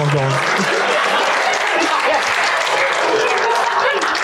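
A studio audience claps steadily and loudly throughout, a dense continuous wash of applause with faint chuckles mixed in.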